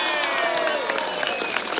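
A rally crowd at a street event in Nueva Esparta breaks into applause, a steady patter of clapping with some crowd noise mixed in, moderately loud and continuous for a couple of seconds.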